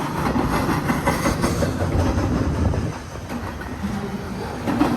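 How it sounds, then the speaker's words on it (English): Freight train well wagons stacked with containers rolling steadily past at close range, a loud continuous rumble with rhythmic rail clatter and a brief dip in intensity partway through. "Back into some well wagons here."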